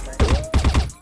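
A few quick gunshots in a shooter game, sharp close cracks in a short rapid cluster over roughly a second, with someone speaking Portuguese over them.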